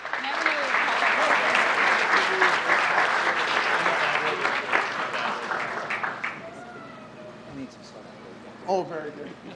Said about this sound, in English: A big round of applause for group 3.